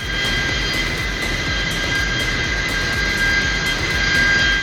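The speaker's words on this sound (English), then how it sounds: "Powerful work of the airplane engines." Airplane engines roar powerfully and steadily at close range, a dense jet-like rush with sustained high whine and rumble, no voices.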